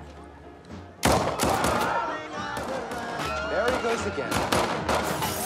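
Gunshots ring out in an action movie scene: a loud burst at the start, then repeated sharp cracks and a volley of gunfire mixed with crowd noise, under a voice.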